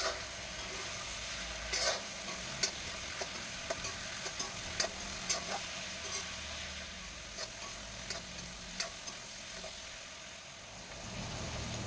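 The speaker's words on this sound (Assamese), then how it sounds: "এয়া বিলাহী ভাজি আছোঁ।" Tomatoes fry in a pan while being stirred, a low steady sizzle broken by repeated sharp scraping clicks of the utensil against the pan, heard up close without talking.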